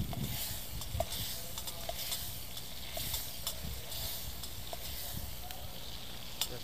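Food frying in a canteen cup over a small wood fire outdoors, a steady soft sizzle and hiss with faint crackles and occasional stirring taps, quiet and close throughout.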